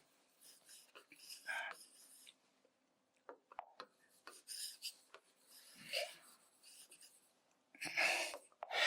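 A salt sample is rubbed in a chemistry lab during a bromide test, giving faint, intermittent scratchy rasps with quiet gaps between strokes, close by and mostly alone.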